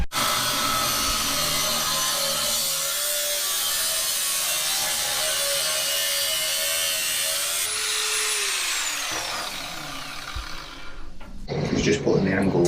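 Polished metal tubing for a 54ft sailboat refit being cut before welding, a continuous loud grinding whine that holds steady, then winds down and stops near the end, followed by brief clatter.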